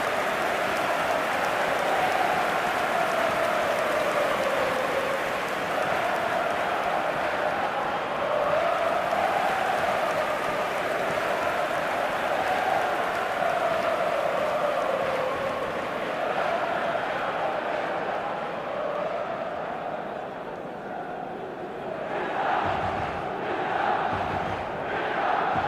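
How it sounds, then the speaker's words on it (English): Stadium crowd at the San Siro in the eFootball 2025 video game, a dense continuous roar of chanting and cheering with a rising and falling sung tone, slightly dropping near the end as a few thuds sound. "Red and black wherever you turn, the San Siro is buzzing"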